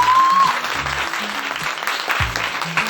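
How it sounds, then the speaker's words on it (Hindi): An audience at a life-changing grand seminar in Tohana claps together, a dense steady applause close and loud, with a brief whistle-like tone at the start and a voice speaking over the clapping. "एक बार पूरी एक्साइटमेंट के साथ में अपने लिए तालियां बजाइए"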